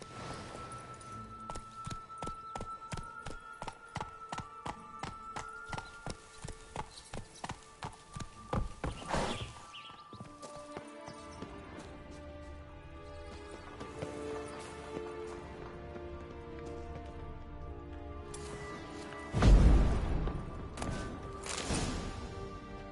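Hooves of Roach, Geralt's horse in The Witcher 3, clip-clop in a steady rhythm through the first stretch, then fade under game music and ambience, with a louder thump near the end.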